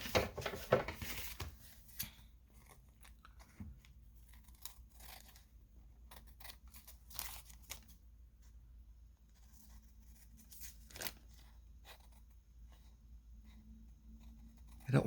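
Scissors trim paper for a steampunk junk journal in a few sparse, quiet snips and rustles spread across a mostly hushed stretch, with occasional soft handling noises.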